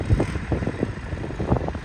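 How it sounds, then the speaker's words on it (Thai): Strong wind buffets the microphone outdoors at an event site, a rough, gusty rumble with pulsing blasts across the whole short stretch, no talk. "ลมคักพี่น้องเอ้ยลมคักลมเนียนะครับ"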